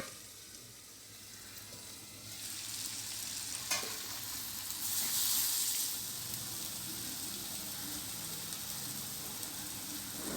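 Onions sautéing in oil with salt and a pinch of turmeric for a sword bean poriyal, a steady soft sizzle with stirring, brief scrapes and a louder burst midway, with no talking.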